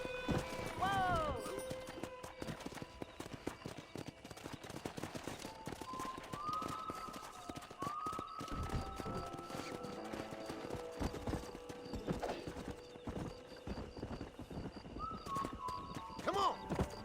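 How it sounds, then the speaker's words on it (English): Wild horses gallop with rapid clip-clop hoofbeats in the video game Red Dead Redemption, with a few high whinnies and neighs rising over the busy, continuous thunder of hooves. "there's a pack of wild horses nearby"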